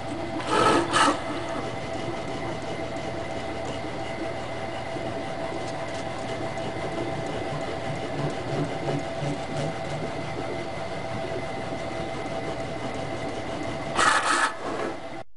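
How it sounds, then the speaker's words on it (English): The Z-axis lead screw on a Plasmacam Gotorch CNC plasma cutter with servo drives runs at 250 inches per minute, giving a steady mechanical whir and hum with short louder rattling bursts at the start and near the end. "Clearly the Z-axis lead screw is a little noisy and totally inappropriate at that speed."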